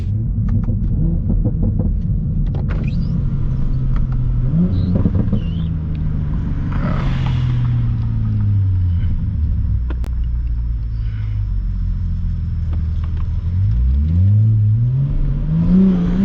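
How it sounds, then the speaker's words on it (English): A tuned Toyota Supra making about 700 wheel horsepower idles with a deep, close, loud burble, its engine rumbling steadily and swelling into several revs, with no one speaking. "And I forgot this car does burble."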